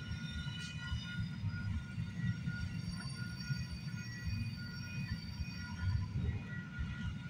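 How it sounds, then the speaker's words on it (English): A long freight train rolls slowly past at night near West Toronto, a steady low rumble of wheels and cars with faint high metallic squeals running throughout, continuous and close. "When is this train gonna end?"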